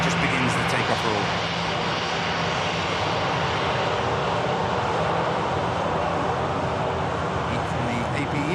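Jet airliner engines spool up at the start of a takeoff roll at a busy airport, a loud, broad, sustained roar holding steady throughout.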